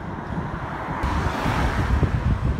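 Strong, blustery coastal wind in Norway roars against the microphone as a steady, loud rumble with gusting buffets and no voices.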